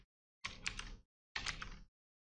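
Code being typed on a computer keyboard in two short quick bursts of clicking keystrokes, close and fairly quiet, separated by a brief silence.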